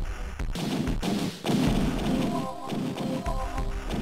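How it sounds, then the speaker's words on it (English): A fireball strikes the player in the video game Darkwolf, heard as a run of dull booming thumps and bursts that land close and loud, with brief gaps between them. "that time I got hit by that fireball"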